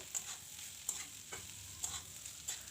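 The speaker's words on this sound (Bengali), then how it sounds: "এবার আমি খুব ভালো করে ভাজা করে নেব সবজিগুলো।" Vegetables for a samosa filling of potato, cauliflower, peas and peanuts fry in a pan. A faint sizzle runs underneath as the spoon gives several soft, spaced scrapes and stirs.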